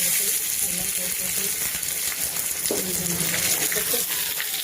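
Mustard seeds sizzle steadily in hot oil with small crackles and pops, and a voice speaks over the frying.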